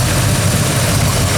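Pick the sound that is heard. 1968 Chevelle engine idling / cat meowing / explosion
1968 Chevelle engine idling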